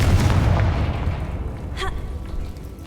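A Confringo fire spell in Hogwarts Legacy lets off a booming burst that fades into a rumbling tail, with a brief crackling flourish near the end.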